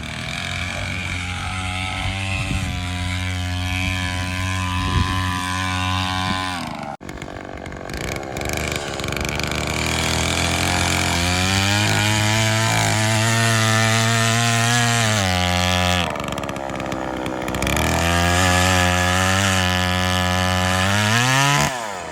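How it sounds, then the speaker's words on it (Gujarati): An engine-powered machine digging pits for dragon fruit poles on a farm, droning loudly and continuously with a rising and falling engine pitch, broken by two brief changes in load. "ખાડા ખોદવાનું ચાલુ છે, સાથે સાથે બતાવું તમને."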